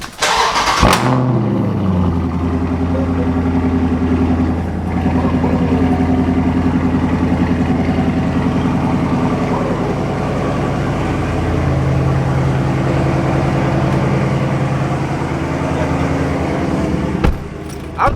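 A Dodge Scat Pack's V8 cranks and fires, then settles into a loud, deep idle with blips and surges of revving, close by and continuous for the whole stretch.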